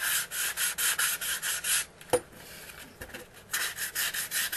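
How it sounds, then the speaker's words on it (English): Hand sanding of a foam-and-hot-glue OSG Micro model airplane fuselage with 150 grit sandpaper: close, steady back-and-forth rubbing strokes, broken by a short pause with a sharp click before the rhythmic scraping resumes. "If I really want to shape it faster, I'd use the 100 grit. This is 150 I've got here."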